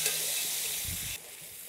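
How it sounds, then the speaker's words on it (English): Brussels sprouts drop into hot, slightly burning bacon fat in a pan, giving a loud, steady frying hiss with a soft stirring rustle near the end before the sizzle suddenly quiets to a lower level. "the bacon fat is going to start to burn a little bit, and in go the Brussels sprouts"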